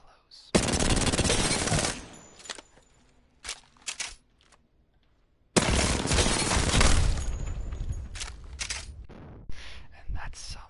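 Light ammo weapons fire in the Apex Legends firing range, two long loud bursts of rapid automatic gunfire separated by a few scattered single shots and quieter gaps.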